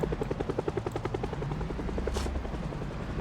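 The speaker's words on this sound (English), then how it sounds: "waiting for the helicopter to go away" A video game helicopter in Project Zomboid flies overhead, its rotor chopping in a steady rapid rhythm, loud and close, with a low engine drone underneath and a brief hiss partway through.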